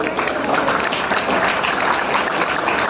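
A crowd applauds to welcome performers at a community program in Sarai Akil, Kaushambi, producing a steady dense wash of clapping that holds at an even level throughout with no pauses.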